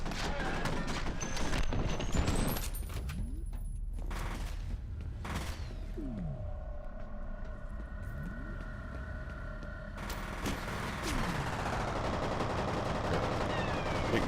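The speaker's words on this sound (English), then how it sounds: "Big guy shooting me in the back now" Gunfire from the first-person shooter F.E.A.R., with repeated shots and automatic bursts crackling over a steady bed of game noise and machinery hum throughout.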